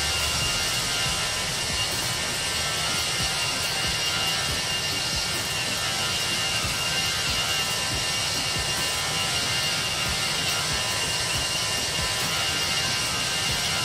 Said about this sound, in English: Now we can hear the engines, guys.